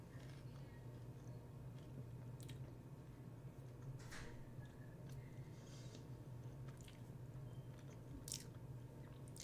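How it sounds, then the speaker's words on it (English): A person chewing food close to the microphone, soft wet biting and mastication sounds repeating irregularly over a dense, steady background hum, with no talking. "I'm chewing."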